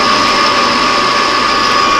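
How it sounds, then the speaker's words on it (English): Steady machining noise from a small metal lathe taking boring passes, a continuous close whir with a faint high whine, running alone without talk. "I got a smaller lathe, so that means I don't have a lot of drill size to work with, so you got a lot of boring to do."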